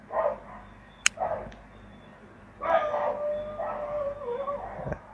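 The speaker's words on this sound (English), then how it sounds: "Again, I am sorry for the dogs," Dogs bark, yip and howl indoors, a few short barks followed by a drawn-out wavering howl, fairly close, over faint room noise.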